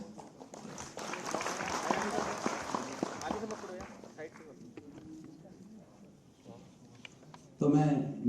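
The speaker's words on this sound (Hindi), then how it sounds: "तो तालियों से स्वागत करें।" Audience applause welcoming a speaker at a GI certificate distribution ceremony in Dehradun, a rapid patter of clapping that builds then thins out, giving way to quieter room sound, with a voice starting up at the end.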